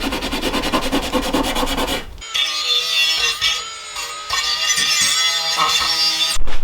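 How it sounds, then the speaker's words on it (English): Engine parts are scrubbed before priming, a loud continuous abrasive rubbing that shifts in tone as the strokes change, with brief pauses between passes. "Then you're just going to take it, you're going to scrub it."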